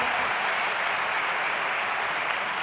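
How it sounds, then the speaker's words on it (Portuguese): Steady applause from a church congregation, dense and continuous clapping with no voices rising above it. "pode aplaudir Jesus, Ele é digno."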